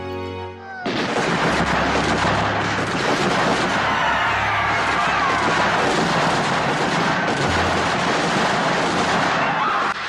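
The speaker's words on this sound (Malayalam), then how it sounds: "യാതൊരു പ്രകോപനവും ഇല്ലാതെ ജനത്തിനുമേൽ സൈന്യം വെടിയുതിർത്തു" Dense, sustained gunfire crackles for several seconds after a sudden start, rapid overlapping shots with low booms underneath, loud and chaotic: soldiers firing on a crowd in a children's stage re-enactment of the Jallianwala Bagh massacre.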